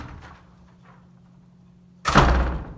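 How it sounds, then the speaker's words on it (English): A door flung open then swinging shut: a quiet low hum before a sudden loud thump of the door near the end, close by. "So I'm going to fling the door open,"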